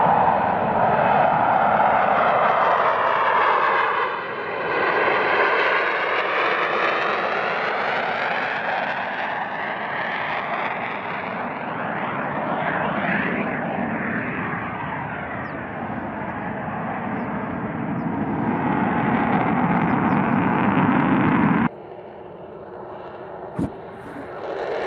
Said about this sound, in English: Reminds me a lot of an F-104 Starfighter.